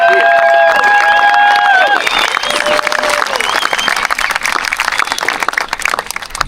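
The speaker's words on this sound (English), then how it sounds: "I think we just need to give them a round of applause" Crowd applause at a beach paddle out tribute, a dense wash of clapping and cheering that holds steady throughout, with high whistles and calls rising over it early on and water and voices mixed underneath.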